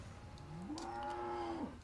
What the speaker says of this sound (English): We do have animated cows in this area.